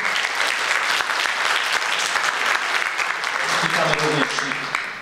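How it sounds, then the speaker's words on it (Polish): Dense audience applause in a hall for school math contest finalists, continuous even clapping throughout, with a few voices briefly audible near the end. "Oklaski dla tych uczniów."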